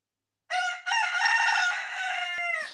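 Rooster crowing once in a long, loud, close cock-a-doodle-doo with a brief break near the start, heard alone.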